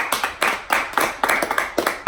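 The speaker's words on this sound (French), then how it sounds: "On applaudit Nesco" A small group claps in quick uneven bursts, close and lively, for about two seconds with no talk over it.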